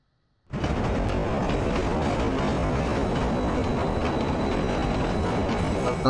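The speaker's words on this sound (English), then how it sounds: "That's one loud train." A loud train in a video game bursts in after a brief silence and roars past at close range, a dense, continuous rumble and rattle with no voices.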